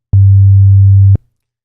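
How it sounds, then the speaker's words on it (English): A plain, steady sine tone from an FM synth patch in Serum, held at one low pitch for about a second with clean starts and stops and nothing else around it. "if we play this right now, we just have a sine wave"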